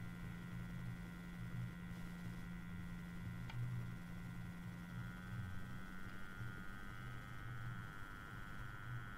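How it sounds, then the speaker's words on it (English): A Bedini motor spins at about 745 RPM, giving a low, steady electrical hum with a faint repeating throb and a light tick, even and unbroken throughout. "the sweet spot on this seems to sit around 700 or 800 revolutions per minute"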